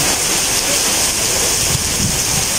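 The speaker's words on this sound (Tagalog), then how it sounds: "Okay, so pinabagyo na dito sa Tagaytay." Heavy typhoon rain pours down in Tagaytay, a loud, dense, unbroken roar of water close by, with low rumbling undertones and no clear talk.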